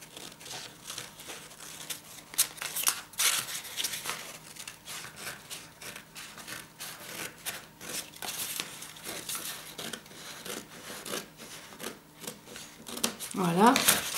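Scissors cut through the middle of material for a handmade tissue box, making steady close rasping and crinkling snips in quick succession, with a brief voice near the end.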